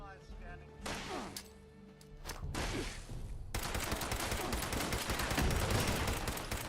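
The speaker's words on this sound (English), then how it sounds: "I threw a grenade at him" A thrown grenade goes off in a video game amid a burst of gunfire, followed by dense, crackling explosive and shattering sounds that build and sustain for several seconds, loud against game noise.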